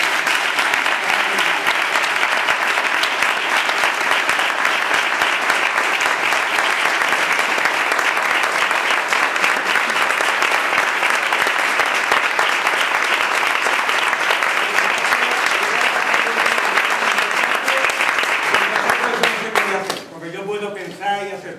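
Audience at a flamenco memorial event breaks into loud, sustained applause filling the hall for about twenty seconds, then it fades as a voice begins speaking near the end.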